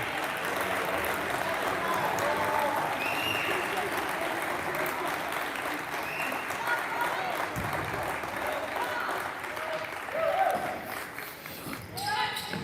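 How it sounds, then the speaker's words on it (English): Spectators at a high school girls basketball game cheer and clap in a sustained roar, with a commentator talking over the crowd noise and sneaker and ball sounds from the court. "Crowd cheering about that."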